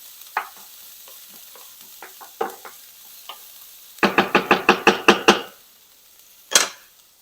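Garlic cooks in a pan for mole, giving a soft sizzle under scattered clinks and scrapes of a utensil, then a quick run of sharp metallic scraping strokes and one final clatter, close and fairly quiet.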